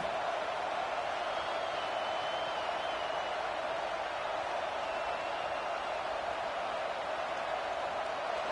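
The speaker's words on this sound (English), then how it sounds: "This crowd trying to do its part to get inside the kicker's head" Stadium crowd in an NCAA college football video game during a field goal try, a steady, dense roar with no breaks and faint whistling on top.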